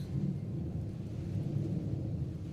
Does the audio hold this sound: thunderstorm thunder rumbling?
yes